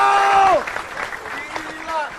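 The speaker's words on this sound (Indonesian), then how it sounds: "tepuk tangan buat Piki Prasetyo" Stand-up comedy audience applauding after a comedian's set, a short burst of clapping that follows a sustained voice tone and fades under crowd noise and a talking voice.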